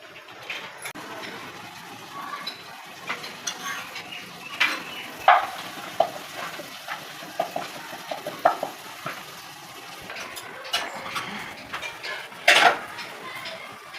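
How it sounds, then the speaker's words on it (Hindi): Parathas cook on a pan for breakfast while dal warms, soft frying hiss beneath sharp clinks and scrapes of utensils against cookware, with occasional faint talk. "दाल भी गर्म हो गई और पराठे बन रहे हैं"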